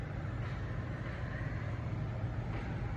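Steady low city traffic rumble outside a New York yoga studio, heard as a faint, continuous wash of passing cars with no distinct individual vehicles.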